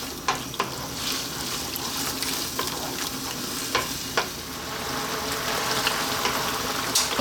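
Sweet and sour pork with ketchup stir-fried over high heat in a pan, a steady close sizzle with repeated scraping clicks as the spatula keeps the pieces moving.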